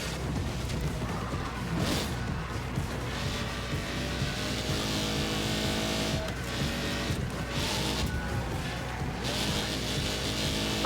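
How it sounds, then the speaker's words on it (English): Race car engines in the arcade racing game Screamer drone continuously with rising and falling pitch, joined by whooshes and occasional crashes, loud and dense with no voices. "I just hate the way these cars sound."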